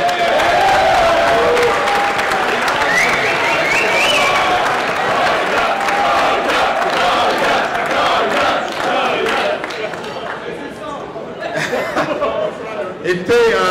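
An audience at a press conference applauds continuously, a dense, loud wash of clapping with some cheers and chatter that fades slightly toward the end.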